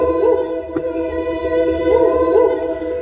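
A sustained, swelling orchestral texture from a virtual instrument called Arkish, with gentle pitch movement, smooth and continuous, played alone with a brief soft click partway through.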